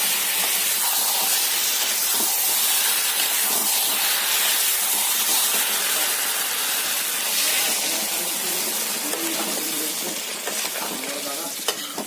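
Water hits a hot pan of fried capsicum, potato and paneer, setting off a loud, dense hiss of steam and sizzling. The hiss runs unbroken and eases only slightly toward the end.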